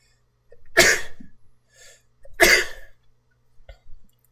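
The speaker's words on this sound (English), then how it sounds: "Oh, I got a sneeze coming on." Two sharp, explosive sneezes about two seconds apart, each with a quick intake of breath before it, followed by a soft sniff.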